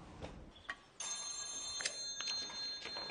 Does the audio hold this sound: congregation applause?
no